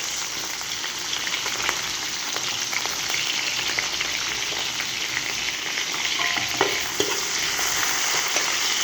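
Ginger and onion sauté in a pan, a loud, dense sizzle with scraping stirs and occasional pops, continuous and close, with no voices.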